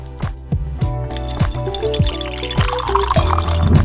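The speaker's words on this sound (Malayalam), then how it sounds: "ഒരു നാരങ്ങയുടെ പകുതി നീര് പിഴിഞ്ഞ് അതിലേക്ക് ചേർക്കുക" Lemon juice squeezed by hand and poured into a green apple mojito of chilled soda over ice makes a close, bubbly trickle of liquid, with a rhythmic series of soft pulses and fizzing under a musical backing.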